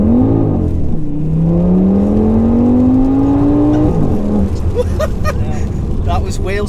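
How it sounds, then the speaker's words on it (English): A 900bhp Audi RS6 with 1300Nm of torque launches on a wet road, its engine rising in a long, loud, climbing drone before shifting, with people talking inside the car. "I've seen a Quattro wheel spinning."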